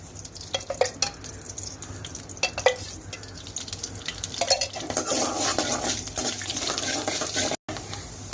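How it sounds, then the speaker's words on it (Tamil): Fenugreek seeds dry roasting in a pan without oil: a few sharp clinks and taps of stirring, then a steadier crackling rustle, close and fairly loud. "எண்ணெய் ஊற்றாம வெந்தயத்தை போட்டு வறுத்து எடுத்துக்கலாம்"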